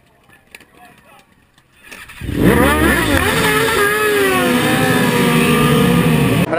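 A pack of motorcycles fires off the grid at the start of an Oulton endurance race, engines suddenly swelling from a quiet hum into a loud, sustained roar of rising, overlapping revs.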